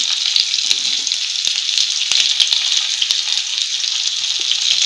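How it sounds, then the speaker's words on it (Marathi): Onions roasting in a hot pan for matar paneer, giving a bright, continuous frying crackle with scattered pops and light spoon taps, loud and close throughout with no talking. "आता कांदा टाकून घ्यायचा. हे भाजून घ्यायचं आपण चांगलं."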